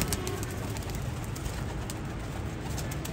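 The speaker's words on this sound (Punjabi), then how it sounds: "ਕਬੂਤਰ ਅੱਛਾ ਜੇ" Pigeons coo softly, nearby and fairly quiet, a low murmuring burble with faint rustling and no talking.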